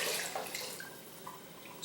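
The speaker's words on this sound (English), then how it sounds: "I'm going to be adding some more water, just for the gravy" Water poured into a pot of gravy gives a steady splashing hiss, close and moderately loud, with no talk.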